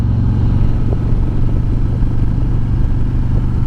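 A 2020 Harley-Davidson motorcycle with a slip-on exhaust rides in third gear at about 3,000 RPM, giving a loud, steady, deep engine rumble with a throbbing low exhaust note that stays even throughout.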